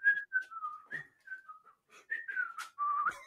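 A person whistles a short, wavering tune in several quick phrases with brief pauses between them, close and clear.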